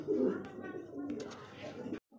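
High-flyer Giribaz pigeons coo softly and repeatedly at close range, the low throaty calls continuing for about two seconds before cutting off.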